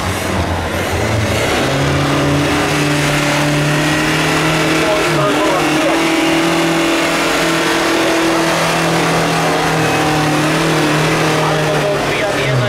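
A competition 4x4 tractor fitted with a Fiat 1.9 TDI engine and Fiat gearbox revs loudly and steadily at a tractor pulling contest, engine tone rising and falling, with an announcer talking over it.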